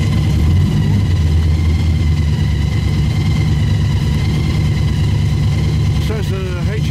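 A Dodge Viper sports car engine idling at a car meet with a deep, steady rumble that stays loud and close, then shifts slightly in pitch near the end.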